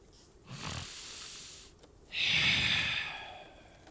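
A voice imitates a silver dragon's heavy breathing: a short rough exhale, a pause, then a longer, louder hissing breath through bared fangs, close and alone.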